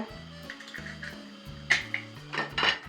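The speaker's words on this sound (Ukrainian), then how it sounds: "Яйце перемішала" A utensil scrapes and clinks against a bowl in a few quick bursts as an egg is mixed, over a low hum.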